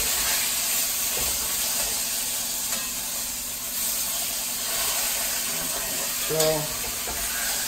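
Venison pieces sizzle steadily as they brown in a pan for a braise, a constant frying hiss with a brief clatter near the end and a short word spoken.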